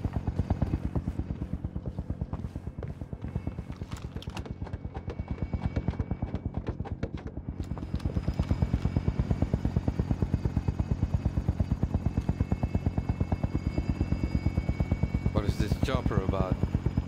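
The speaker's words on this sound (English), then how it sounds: "Chopper about." A helicopter in the video game Call of Duty: Warzone thumps steadily with a rapid rotor beat that grows louder and heavier midway, with brief voices and game noises over it.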